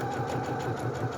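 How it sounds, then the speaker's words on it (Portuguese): A Singer HD6805 sewing machine stitches around a fabric leaf for a Christmas leaf rug, its motor humming steadily with a fast, even needle rhythm, close and continuous throughout. "E vou fazendo a costura"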